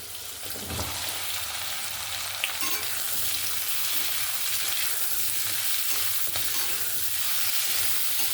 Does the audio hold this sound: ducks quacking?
no